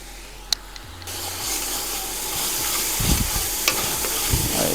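Chopped coriander and mint sautéing in a pan for nombu kanji, a steady sizzle building after a short clink, with scattered stirring scrapes and taps close by and no talking.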